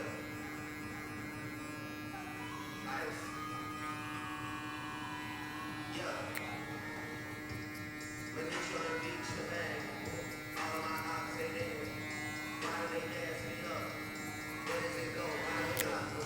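Electric hair clipper running steadily throughout a burst fade and V-shape cut at a barbershop, a continuous buzzing hum close by, with voices talking over it.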